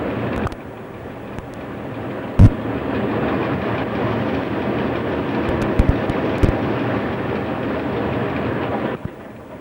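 Diretto passenger train ES 646 on the Udine–Trieste line of Ferrovie dello Stato in the 1990s, rumbling steadily along the rails at speed with loud continuous roar and occasional sharp clacks of wheels over joints.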